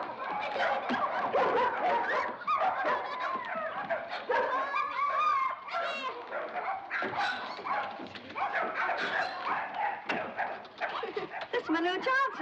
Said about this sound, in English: Just playing with dogs.